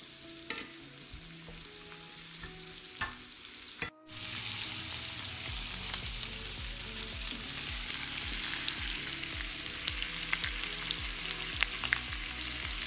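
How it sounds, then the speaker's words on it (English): Kingfish mackerel searing in a pan: after a brief quiet start, a strong, steady hissing sizzle sets in and continues without pause, close and loud, over a faint low background hum. "good old seared kingfish"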